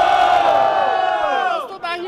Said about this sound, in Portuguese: quem gostou da rima do JP faz muito barulho